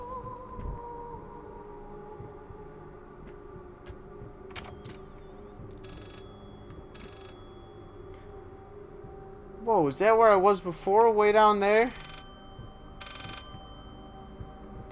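A telephone rings in the Layers of Fear horror game, two loud bursts of warbling electronic trills about a second apart, standing out above a low droning ambience while a person talks.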